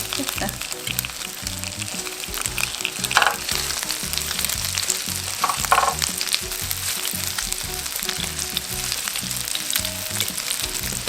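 Shrimp skewer jeon fries in a pan, a loud continuous sizzle close by with crackling pops and a few soft clatters, no talk over it.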